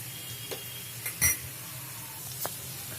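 Potato bonda filling being sautéed in a pan: a quiet background sizzle broken by a few sparse spoon scrapes and clinks against the metal, one louder clank standing out.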